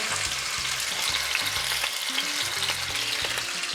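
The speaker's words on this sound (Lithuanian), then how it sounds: "Dedam į gerai įkaitintą keptuvę" Venison fries in a well-heated pan under a mesh splatter lid, a dense, continuous close sizzle and crackle with faint low rhythmic knocks underneath, no voices.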